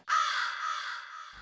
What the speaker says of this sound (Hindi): कौआ, क्रो, या दिस वन।